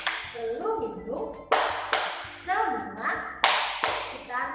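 Sharp, rhythmic hand claps from a classroom clap chant for first graders, landing in sets between stretches of chanted voices, close and loud.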